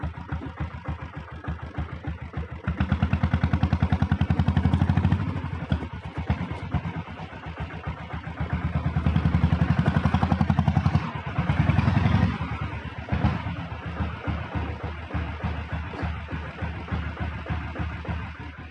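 A red Royal Enfield Bullet Deluxe with a self-start diesel engine idles with a heavy, rapid thumping close by, swelling twice into louder revving before settling back to a steady chug.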